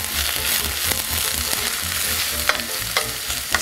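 Pulled beef browns in a hot pan with a loud, steady sizzle, broken by rhythmic stirring scrapes and a few sharper clicks of the utensil, close and without talk.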